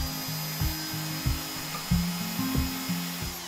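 A hand drill with a slightly bent bit boring a hole while making a pigeon-call whistle: a low whirring drone with repeated pitch jumps and short bursts, loud and close with no talking.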